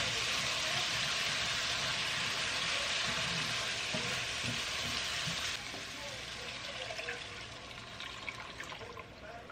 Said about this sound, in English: Now I'm gonna let that simmer slowly.